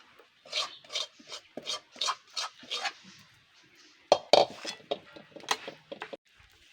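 A spoon spreads a sticky jaggery and peanut chikki mixture across a ghee-greased plate, making a run of close, rhythmic scraping strokes with short pauses and a few sharper clinks against the plate.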